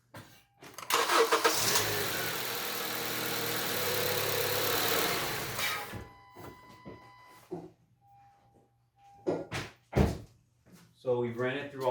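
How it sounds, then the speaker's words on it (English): A Honda CR-V engine cranks and starts, then runs with a loud, steady roar for several seconds before settling, followed by beeps, clunks and a voice talking, recorded close during an automatic transmission service. "The first thing we're going to do is start the vehicle."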